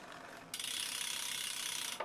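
Rear hub ratchet of a Scott Foil RC road bicycle freewheeling: a rapid, even buzz of fine clicks that steps up in speed partway through, close and fairly quiet.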